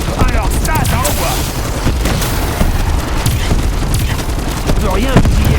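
Gunfire from a video game gun during a live stream, rapid loud bursts and booms layered densely over game noise, with someone talking over the shooting.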